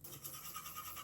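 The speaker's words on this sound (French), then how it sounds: "on va aller se brosser les dents" Brushing teeth with a toothbrush: a brief, close, bristly scrubbing with a quick back-and-forth rhythm, fairly quiet and with no one speaking.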